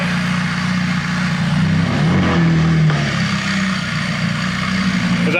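A wrecked McLaren 675LT with its wing up rolls slowly forward at dusk, its engine a steady close drone that swells slightly in revs midway.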